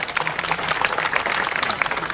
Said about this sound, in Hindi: उसके लिए तो तालियां बजाओ।